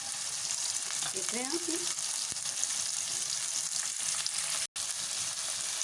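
Tomatoes and chicken cook in a pan for chicken macaroni, giving a steady, fairly loud frying hiss that runs throughout, briefly joined by a short spoken remark early on and a sharp dropout near the end.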